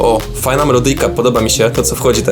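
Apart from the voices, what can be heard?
No everyday noises stand out.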